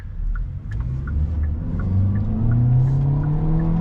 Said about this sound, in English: at higher revs it sounds like a blender